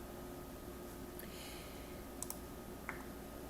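Soft, close computer mouse clicks, including a quick double click, sound over a quiet room hum.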